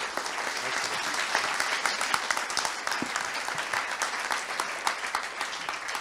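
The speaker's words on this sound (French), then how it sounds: "je vous demande de l'applaudir." Conference audience at a business colloquium in Avignon applauds media executive Pierre Lescure; sustained, fairly close clapping with individual sharp claps standing out, steady and unbroken for several seconds.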